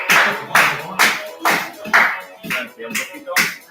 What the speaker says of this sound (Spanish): les doy un aplauso, por favor